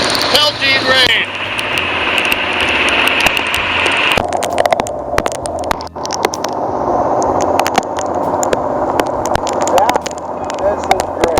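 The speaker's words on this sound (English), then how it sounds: "Pelting rain." Heavy pelting rain beating down on a boat out on a river, a dense, steady hiss and patter filling the whole stretch, with a voice talking over it.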